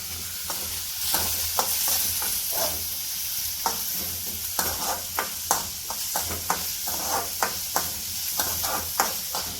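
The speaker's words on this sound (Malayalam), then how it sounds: "വെളിച്ചെണ്ണയിലേക്ക് നമ്മളെ ഇത് ഉള്ളി സവാള ഇട്ടിട്ടുണ്ട്" Chopped onions frying in coconut oil in a pan, a steady close sizzle with repeated scraping stirs of a spoon every second or so, no talking.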